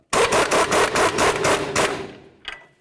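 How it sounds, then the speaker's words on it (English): Impact gun snugging the upper ball joint nut on a 2006-08 Dodge RAM front upper control arm, a loud close rapid hammering burst that slows and stops, followed by a brief rattle. "Start that nut on there. Let's go ahead and snug this up."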